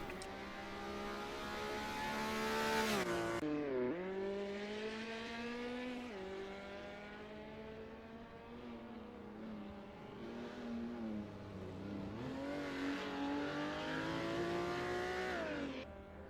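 A Ferrari 330 race car drives hard toward the finish at Imola, its engine note loud and close, climbing and dropping in pitch with shifts and revs and sustained throughout.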